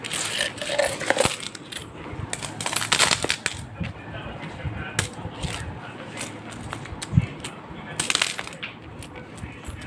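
Hundreds of coins clink and jingle continuously as they are handled, counted and dropped, a dense close metallic rattle with occasional louder clatters.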